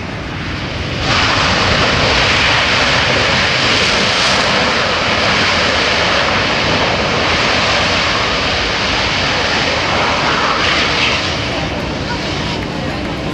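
A 300,000-pound Boeing C-17 military transport airplane on a short-field landing at the 2009 AirPower Over Hampton Roads air show, its engines roaring loud and steady as a broad, continuous wash of jet noise that holds for the whole stretch.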